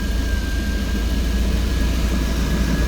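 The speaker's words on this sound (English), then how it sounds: "as it starts to warm up, the idling starts coming down to more of a normal rate" A car engine idling as it warms up after a possible idle air control fault, a steady, loud, low rumble with a faint high whine running through it, continuous and unbroken with no voices.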